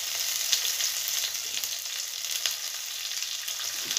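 Small chopped onions and split green chillies fry in hot oil, giving a continuous dense crackling sizzle with faint pops. It is steady and close, with no voices.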